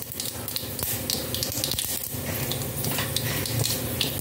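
Fenugreek seeds and asafoetida frying in hot oil for sambar, a continuous close-up sizzle and spatter with crackling pops scattered across it and no voices.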